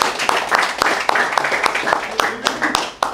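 Post-match applause from a football team in a locker room, a burst of sharp, irregular hand claps close by, mixed with shouting voices and cheers throughout.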